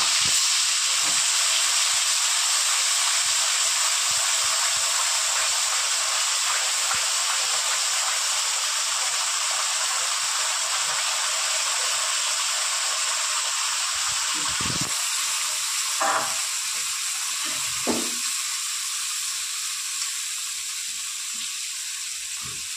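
Ginger, onion, garlic and tomato paste sizzle hard in hot oil in a pan, a loud steady hiss throughout, with a few soft stirring knocks near the end.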